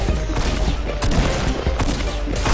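Dense gunfire rattles in rapid, overlapping bursts in an online shooter game, loud and close, with sharp individual cracks standing out from a continuous barrage.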